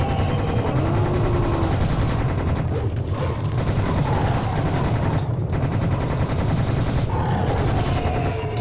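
In the shooter Serious Sam: The Second Encounter HD, a Tommy gun fires in sustained rapid bursts with booming impacts layered over a loud, continuous battle din, pausing briefly between volleys.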